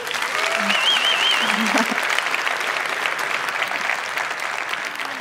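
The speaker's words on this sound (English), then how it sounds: "So give her a round of applause, Jen Looper." A conference audience in a hall claps for a speaker, a sustained burst of applause with a few whoops and voices threaded through, gradually easing toward the end.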